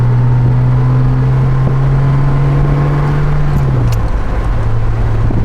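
A 1965 Jaguar XKE Series I 4.2 Roadster engine hums loudly up close while accelerating, its tone holding and climbing before dropping sharply near the end as if shifting gear in its 5-speed.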